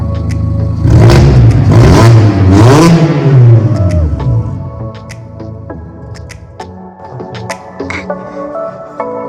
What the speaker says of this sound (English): with every exhaust install, we have to start it with no exhaust on it.